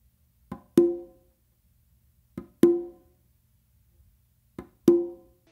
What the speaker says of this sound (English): So you're going to do one open after doing that little ghost note with your dominant